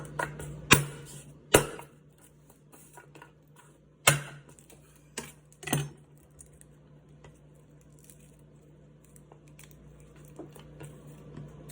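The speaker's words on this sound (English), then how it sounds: "how to chop with knife the fresh garlic" Knife chopping fresh garlic on a board, a handful of sharp, separate close taps spaced irregularly, then quiet.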